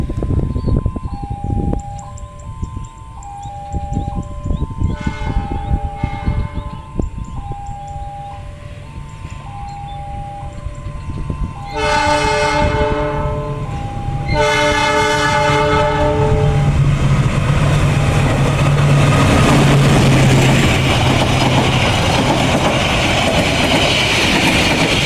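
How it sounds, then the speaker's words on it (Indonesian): A KA Commuter Line Supas train approaches and passes, sounding repeated horn blasts with warning chimes, then a loud sustained rumble of carriages rolling by close up. "kereta api komuter lain Supas yang akan saya cegat sebentar lagi"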